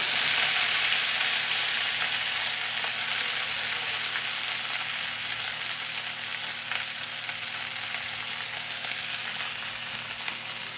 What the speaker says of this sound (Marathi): आता आम्ही चिरून घेतलेली भाजी घालूया त्याच्यामध्ये.